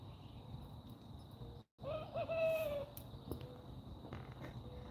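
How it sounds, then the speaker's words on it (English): A young rooster about three months old gives a faint, wavering attempt at a crow, one thin rising and falling call heard from a distance over steady outdoor background noise. "I don't know if you could just hear my rooster."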